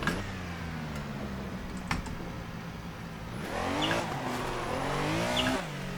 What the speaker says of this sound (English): since you're so tail happy, let's do some burnout